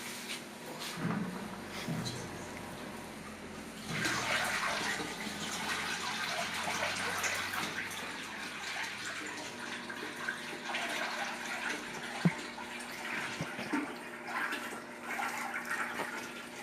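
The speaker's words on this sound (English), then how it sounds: "So now I'm going to take the pot and begin pouring." Tamarind syrup, sugar and water pour steadily from a pot in a long, continuous liquid stream lasting many seconds, at moderate level, with a few soft knocks and no talking.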